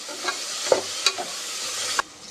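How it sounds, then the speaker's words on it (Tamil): Chopped onions sauté in a pan for Kongunadu white mutton biryani, a soft steady sizzle broken by a few sharp spoon scrapes and taps against the pan, close by and without speech. "இந்த வெங்காயம் வந்து நல்லா பொன்னிறமாக வதங்கட்டும்"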